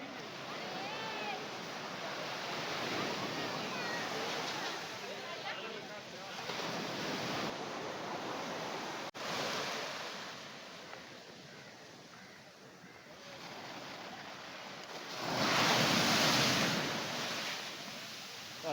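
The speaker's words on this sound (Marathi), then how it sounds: "काय लाटा येत आहेत. वा वा वा." Ocean waves breaking on the shore at Dadar near Shivaji Park, a loud continuous surf with swells that rise and fall, wind buffeting the microphone, and voices in the background.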